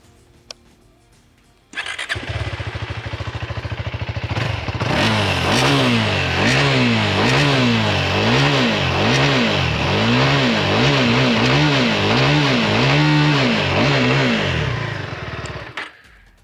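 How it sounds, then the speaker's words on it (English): A KTM 390 Enduro R motorcycle engine fires up and revs repeatedly in rhythmic surges, loud and close, its exhaust note rising and falling before cutting off. "let me give you folks a quick listen on the exhaust note of this machine."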